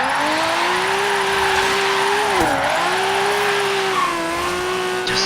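A turbocharged Nissan Skyline R31 with an upgraded single turbo, driven in Forza Horizon 3, holds a loud steady engine drone with a brief dip and recovery midway, the note wavering slightly as it revs on.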